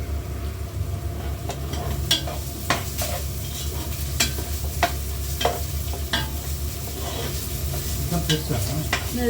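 Mutton being stirred and sautéed in a pan, with a steady close sizzle under repeated scraping spoon strokes and a low background hum throughout; no one speaks.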